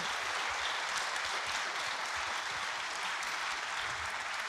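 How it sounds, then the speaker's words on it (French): Dense, steady applause from a lecture audience after a talk, many hands blending into an even roar that holds at constant loudness throughout, without pauses or talk. "On vous applaudit."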